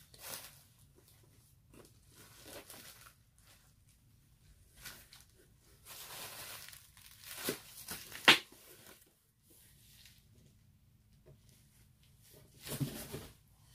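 Packing paper crinkles and rustles in scattered bursts during the unpacking of a mail haul of action figures, quiet and close, with one sharper crackle and pauses between handlings.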